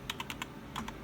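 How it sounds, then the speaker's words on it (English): A brief burst of one-handed typing on a computer keyboard, about six crisp key clicks in two quick groups, close and quiet. "I'll be doing one-handed typing."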